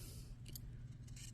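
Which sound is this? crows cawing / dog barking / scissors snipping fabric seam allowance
scissors snipping fabric seam allowance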